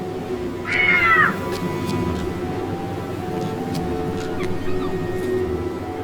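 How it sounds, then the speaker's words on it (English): A cat in the Tintin Reporter: Cigars of the Pharaoh video game, set aboard a ship, gives a single clear, rising-and-falling meow early on. A low, constant engine-like hum fills the rest. "Oh, cat. Come on, kitty."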